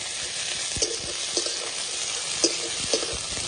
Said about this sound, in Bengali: পেঁয়াজগুলো ভালো করে লাল লাল করে ভাজবো